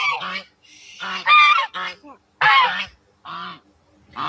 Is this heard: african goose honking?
yes